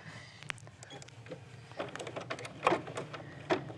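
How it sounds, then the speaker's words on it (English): An embroidery machine stitches two pieces of fabric placed right sides together, giving a low steady mechanical hum broken by irregular light clicks and taps, moderately close, with no voices. "No sewing machine, just an embroidery machine,"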